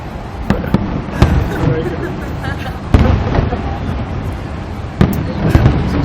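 Canada Day fireworks bursting over Ottawa, with several sharp booming explosions at irregular intervals over continuous crowd chatter and distant crackle; people talk nearby.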